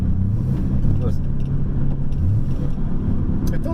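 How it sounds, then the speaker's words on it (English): A truck engine idles with a low, steady rumble close by while people talk over it. "is this truck making noise"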